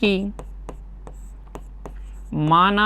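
Chalk or pen writing on a board or paper during a maths lesson, a series of short, evenly spaced scratchy strokes in a quiet pause, with a voice speaking at the start and end.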